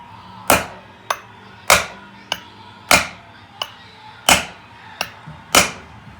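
Hammer driving a bearing into the shock linkage of a Honda 400ex quad: five loud, sharp metallic strikes at roughly one-second intervals, each followed by a lighter tap, close by and with no talking.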